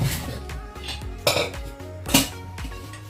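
A heavy-bottomed Prestige pressure cooker is handled on a shop floor, giving several close metallic clanks and knocks of its body and lid, with two louder bumps amid faint background clatter.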